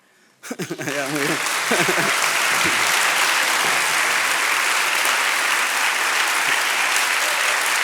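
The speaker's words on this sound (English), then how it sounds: "Like, let's clap back there." After a short spoken line, an audience at a college chapel talk breaks into sustained applause that builds quickly and stays loud and even to the end.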